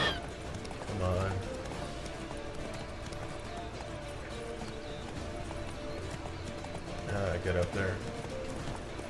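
Roach, Geralt's horse in The Witcher 3 video game, clip-clops along with hoofbeats and gives a couple of whinnies, mid-loud over steady game ambience, while someone talks over it.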